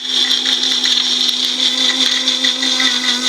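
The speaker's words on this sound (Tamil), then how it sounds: "அதுக்குள்ளே நம்ம இந்த குழம்புக்கு தேவையான மசாலாவை அரைச்சிடலாம்" Kitchen mixer grinding a wet masala of coconut, cumin, cashew and poppy seeds for a kurma, a steady high-pitched whirring drone running unbroken and close throughout.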